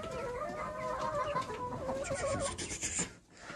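Backyard chickens and a rooster clucking close by, a busy overlapping series of short calls and trills that cuts off abruptly near the end, with no talk.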